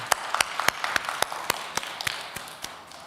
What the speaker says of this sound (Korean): 하나님께 감사와 영광의 박수 올려드리도록 하겠습니다